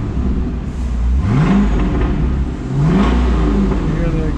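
A 2000 Chevrolet Corvette with a Corsa touring exhaust rumbles low and steady up close, rising twice in short revs over the idle drone.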